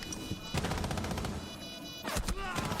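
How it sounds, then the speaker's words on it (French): Gunfire from a Rainbow Six Siege Pro League match, with sharp shot bursts cutting through a busy game mix and commentary voices, strongest near the middle and late in the clip. "Mav qui va tomber naturellement sous les balles de Nyx et Ninex sur l'extérieur"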